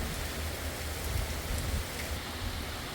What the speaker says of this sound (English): The rains have picked up substantially at this point.